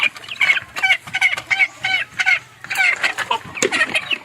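Backyard hens cluck and chatter close by, a busy run of short, sharp calls tumbling over one another with no talking.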